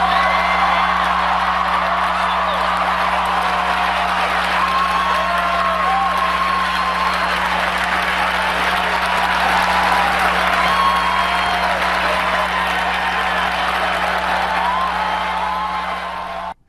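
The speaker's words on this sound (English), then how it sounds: "Now that applause went on for a lot longer than we just showed you" A large audience applauds, cheers and whoops at length for Ted Cruz's presidential announcement, loud and sustained throughout before fading off at the very end.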